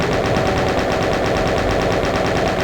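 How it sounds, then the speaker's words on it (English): A chain gun fires in a Doom-style video game, giving a loud, continuous rapid-fire clatter of evenly spaced shots that runs steadily for the whole stretch, with no talking. "Chain guns can be sort of effective against spectres, and pinkies in general."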